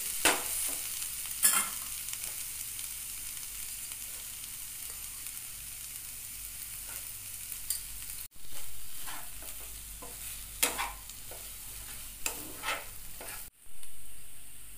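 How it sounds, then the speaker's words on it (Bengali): Soybean chunks stir-fried in mustard oil crackle with a steady broad sizzle, while spatula scrapes and stirring knocks come through at intervals over roughly fifteen seconds, close and moderately loud, with no talking. "সয়াবিনটা যখন কষাবেন আপনারা তখন কিন্তু লক্ষ্য রাখবেন যেন তলায় লেগে না যায়"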